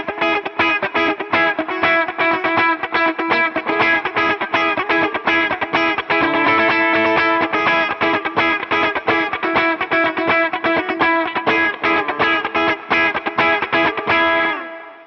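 Electric lead guitar with effects for a song, picked with only the fretted strings ringing, a steady run of distorted, chorus-tinged notes played alone and close for the whole stretch, cutting off at the end.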